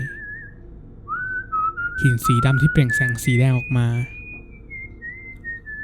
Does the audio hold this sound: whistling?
yes